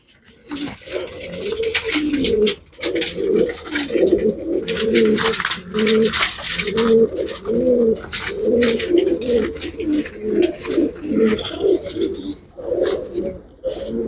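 Pigeons cooing close by in a loft during a pigeon show, repeated low throaty coos in a steady rhythm with faint rustling and chatter around them.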